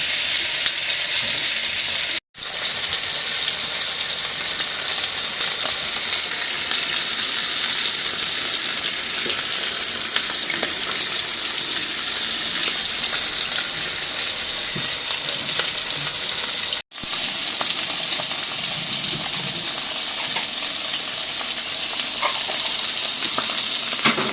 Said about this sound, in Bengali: মাছ ভাজবো হ্যাঁ তেলটা একটু গরম হোক দিয়ে দিব মাছ